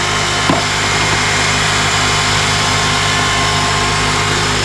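A 2003–2007 Honda Accord engine with a failing alternator runs at idle, a loud, steady, close-up drone and hum that holds without a break and has no speech over it.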